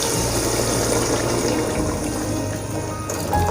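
Water pours continuously from a glass into a pot of rice with peas, tomato pulp and paste for matar pulao, a steady, loud rushing splash throughout with no talking.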